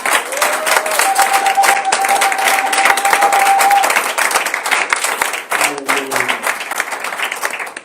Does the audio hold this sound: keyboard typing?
no